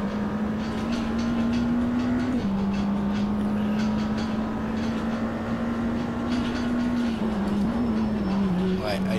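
A hypercar engine in Automobilista 2 holds a steady droning whine, shifting pitch briefly as the car slides, with a continuous, loud hiss of tyre and road noise underneath.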